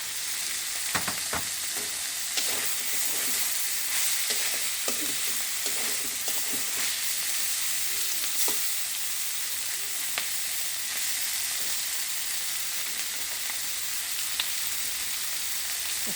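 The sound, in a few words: fried eggs sizzling in chichinga kakrol curry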